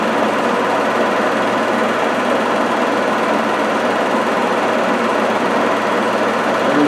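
An Ajax milling machine runs with a loud, steady mechanical whir and hum that holds constant throughout, with no voices.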